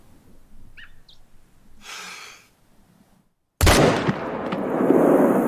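Rifle shot at a mountain goat in the hunting game theHunter: Call of the Wild: after quiet breathing and a near-silent pause, a sudden loud blast rings out and rolls on as a long echoing rumble.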